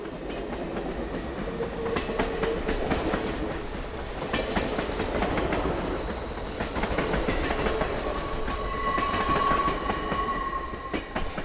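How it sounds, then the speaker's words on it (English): The Reading & Northern 2102 steam locomotive hauls an excursion train across Tannery Road near Whitehaven, a continuous loud rumble of rolling cars with clickety-clack wheel beats and a faint horn tone drifting in near the end. "We next see the train crossing over Tannery Road, just south of the town of Whitehaven."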